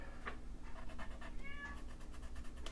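A domestic cat meows a few times in the background, short faint calls heard amid quiet paper-crafting sounds, with no talking over them.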